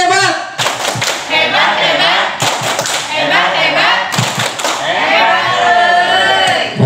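A group claps a rhythmic "tepuk hebat" pattern in sharp bursts at an indoor teachers' ice-breaking session, the claps trading off with a leader's loud chanting voice.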